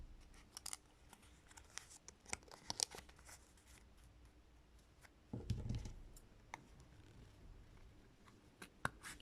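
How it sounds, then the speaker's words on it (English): Scissors snip through folded card, cutting out the inner circle of a doughnut-shaped pompom template; close, quiet irregular snips and rustles with one louder crunching cut midway, no talking. "And then I'm going to cut this inner circle out as neatly as possible as well."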